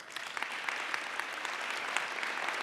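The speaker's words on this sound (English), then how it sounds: "Big round of applause." A sustained round of applause from an audience at a Geneva peace talks event, dense, steady clapping throughout.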